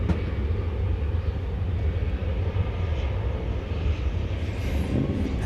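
An American Airlines Boeing 737-800 at DFW Airport gives a steady, dense low rumble of jet engine noise that holds evenly throughout, heard from a distance with no voices.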